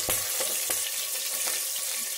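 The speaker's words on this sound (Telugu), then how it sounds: "పచ్చిమిర్చి, కరివేపాకు వేడుతున్నాయి." Green chillies and curry leaves crackle as they fry in hot oil for a fish curry, a steady close sizzle with a few sharp pops scattered through, no voices.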